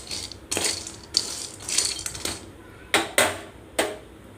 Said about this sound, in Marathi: हे घेतले सांडगे मी आणि त्यात तेल टाकलंय थोडंसं आणि त्याला आता थोडं भाजून घेते मी